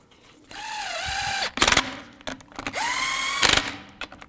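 An impact-style power tool spins lug nuts onto a wheel of a 2011-19 Ford Police Interceptor Utility, two sustained whirring runs with a dipping pitch, each ending in sharp rattling hammer bursts, close and loud.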